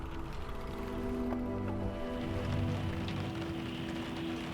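Steady rain falls and patters on surfaces outdoors during a long-distance bicycle ride through harsh weather, a continuous dense wash with no pauses.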